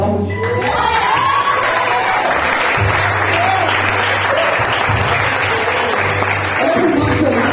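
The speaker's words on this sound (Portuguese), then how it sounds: "Dá uma salva de palmas." A church congregation breaks into loud, sustained applause mixed with cheering and shouting voices, a dense crowd roar filling the space throughout, with a low tonal hum underneath.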